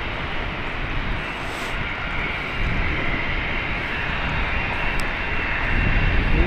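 Aircraft engine spinning up at London City Airport, a broad steady roar that holds even and swells slightly toward the end, heard from a distance with no talk over it.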